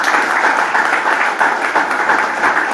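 Steady, loud audience applause at an anniversary commemoration event in Montevideo, continuous dense clapping throughout with no gaps.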